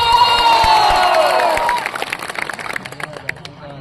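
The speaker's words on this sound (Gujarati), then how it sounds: "જોરદાર તાળી વગાડો." A crowd at a political party meeting cheers and claps loudly, with a shrill whistle-like cry riding over the roar before it thins into scattered claps and shouts.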